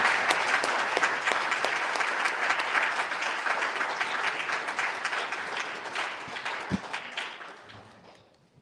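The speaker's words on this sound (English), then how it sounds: "So, Would y'all give them a round of applause?" Audience applause for a panel at an event on Martin Luther King, music and the movement: sustained, full clapping from a crowd that gradually fades out over the last couple of seconds.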